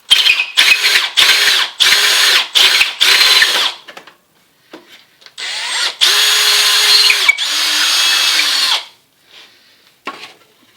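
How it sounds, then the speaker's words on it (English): Loud power drill with a Forstner bit boring into old stage floorboard wood in short bursts, then two longer runs that whine and strain, followed by brief quiet and a final short spin. "Just be careful as you come to the breakthrough point that you don't shoot forward with the drill"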